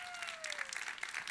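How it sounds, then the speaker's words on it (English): Audience applause for a festival organizer, with a steady wash of clapping lasting about a second, at moderate volume and without talk. "Round of applause for Jamie"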